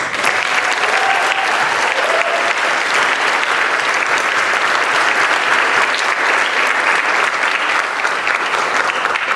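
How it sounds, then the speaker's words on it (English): Loud, sustained applause fills a high school senior awards ceremony as the audience claps for the coach, a dense, even wash of many hands continuing for over nine seconds. "And I would be remiss if I didn't give the coach one more round of applause."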